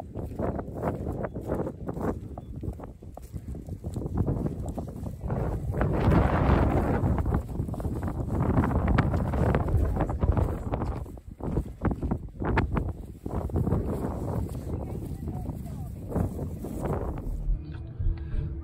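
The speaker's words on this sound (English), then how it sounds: "We're actually having quite a good drying day. It's windy." Steady wind gusts buffet the microphone for the whole stretch on a farm, swelling louder in the middle and rumbling low, with a faint rustle underneath.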